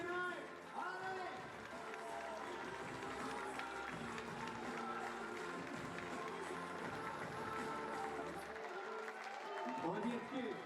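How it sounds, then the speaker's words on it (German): Arena crowd at the IFSC Climbing World Championships men's lead qualification in Innsbruck, 2018, clapping along in a steady rhythmic beat, with an announcer's amplified voice booming over the hall. "Jetzt klatschen wir hinein. Alle!"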